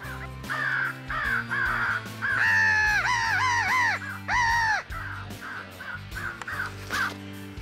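During a crow hunt, harsh crow caws come in quick series, some long and loud and drawn out, others short, near and prominent with no talking.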